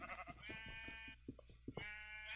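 In a Minecraft dungeon, a sheep bleats a few times in short wavering calls over steady game background music, quiet overall.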